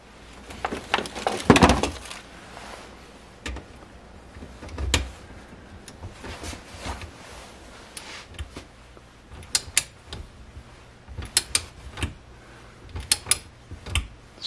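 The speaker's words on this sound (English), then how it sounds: "I'm applying enough torque to seat the bolt." A wrench seats and torques a connecting rod bolt on a Mopar 318 V8 engine, giving scattered sharp clicks and metallic clunks at moderate loudness, with quieter workshop handling noise between them and no talking.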